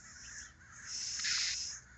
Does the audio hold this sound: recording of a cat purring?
no